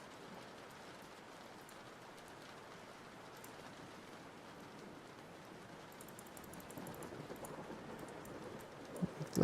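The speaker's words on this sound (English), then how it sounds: "Let me know if you can hear the rain, okay?" Steady rain ambience from the hacking game Glyphis_IO, set in daytime Tokyo: a continuous broadband hiss of falling rain, even and fairly loud throughout, with slight patter growing toward the end and no voices.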